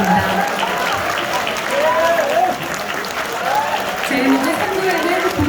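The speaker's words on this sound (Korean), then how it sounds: "모두 기립하셔서 큰 박수 한번 부탁드립니다." A standing crowd at a People Power Party members' rally in Korea claps in loud, sustained applause, with an announcer's voice carrying over the noise.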